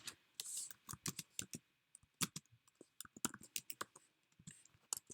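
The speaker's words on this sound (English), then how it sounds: "I will also go type in the name of our presentation." Fingers type on a computer keyboard, keys clicking in quick uneven bursts with brief pauses, close and quiet with no voices.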